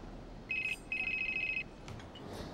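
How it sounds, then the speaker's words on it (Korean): A telephone rings twice with short electronic trills, a brief ring then a longer one, moderately faint over a quiet room background. "자신의 연구에 참여해달라는 브룩스 박사의 전화였죠"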